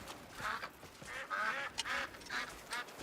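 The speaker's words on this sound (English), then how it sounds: "It's a lot of birds." Ducks in the game Crimson Desert quack repeatedly in short, nasal bursts, several calls overlapping at moderate distance against a quiet background.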